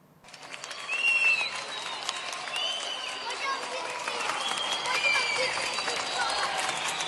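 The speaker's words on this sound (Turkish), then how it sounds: "Alkış ve tezahüratlar, pankartlar," Students applaud and cheer a retiring 65-year-old teacher as he walks out of his final lesson past banners and confetti. The clapping swells quickly and holds steady and loud, with scattered whistles and shouts throughout.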